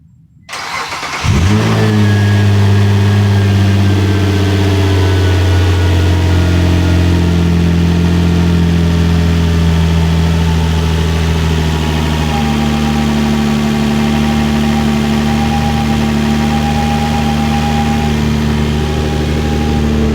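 A 2006 Nissan Maxima fitted with a new NWP Engineering 75mm throttle body fires up and settles into a loud, close, steady idle with a deep drone and a faint whine, holding evenly for the rest of the stretch.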